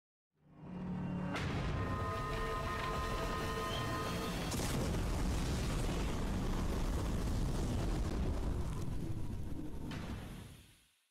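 Cherno Alpha's X attack in the Kaiju Arisen video game: a loud, sustained roaring explosion begins with a sharp burst, rumbles heavily for about nine seconds, then cuts off.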